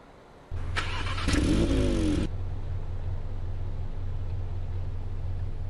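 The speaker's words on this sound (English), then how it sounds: "let's take a listen to this little engine." A VW Polo GTI engine in Euro Truck Simulator 2 starts with a sudden crank and catches, a brief rising whir, then settles into a steady low idle hum.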